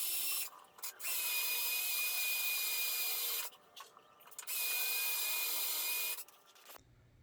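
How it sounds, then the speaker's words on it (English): A power drill whines steadily in two long bursts, drilling two holes in a metal frame for sway bar mounts, pausing briefly between them, with a short drop-off and a final stop near the end. "drilling 2 holes in the frame"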